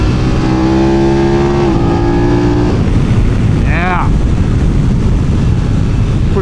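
A 2026 BMW F 900 GS Adventure motorcycle accelerates through the gears, a loud engine drone that drops in pitch at a shift, then gives way to heavy wind rush past the rider with a brief chirp over it.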